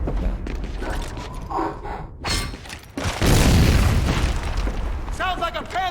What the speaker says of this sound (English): Sounds like a Panzer outside.